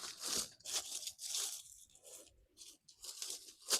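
Parsley plants being trimmed back outdoors: a series of close, rustling cuts and leafy tearing bursts, with brief quiet gaps between them.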